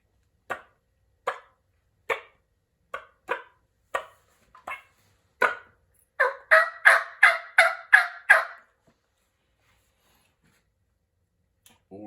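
A hand-operated turkey call imitates turkey sounds for a New Mexico hunt: a slow series of single sharp yelps, then a fast rolling burst of gobble-like notes, loud and close with no talking.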